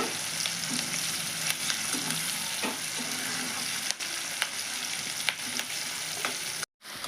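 Onion pieces frying in a pan with salt, a dense continuous sizzle with occasional spoon scrapes and taps as they are stirred, close and steady, cutting out briefly near the end.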